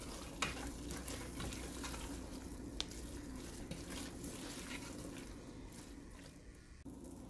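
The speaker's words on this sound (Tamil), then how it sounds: "இப்போ மசாலாலாம் கோட் ஆகிற அளவுக்கு நம்ம மிக்ஸ் பண்ணி விட்டுடலாம்." Potatoes and peas are stirred with masala in a pan for a vegetable kurma, giving a steady close sizzle with soft scraping stirs and occasional utensil clicks throughout.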